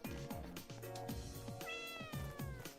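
A cat meows repeatedly in the video game Raidou Remastered, with several short, close, rising and falling cries over a busy game soundtrack.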